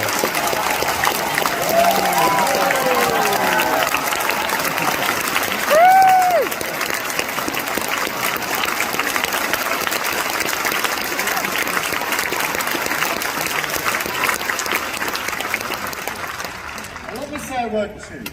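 A large crowd at a political speech applauds and cheers in a sustained, loud wave of clapping and shouts, with a brief whistle and voices mixed in, tapering slightly near the end.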